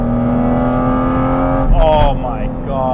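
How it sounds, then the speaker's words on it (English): Porsche GT4 RS engine accelerating hard, a loud sustained roar with rising harmonics, then a brief gearshift dip and renewed climb, heard from inside the car close up. "The car pulls nicely, but once you get to high speeds, it slows down a little bit."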